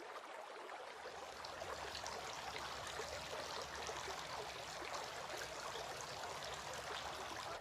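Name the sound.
water running while washing hands for ablution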